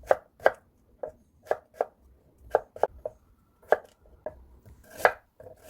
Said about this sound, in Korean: 호박도 감자 사이즈로 썰어주세요.